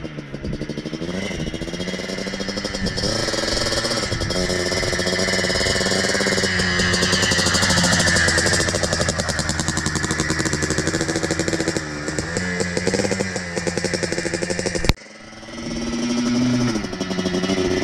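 A Yamaha Blaster 200cc quad engine revs loud and close, climbing through the gears with a steady buzzing drone, then cuts off sharply and picks back up near the end.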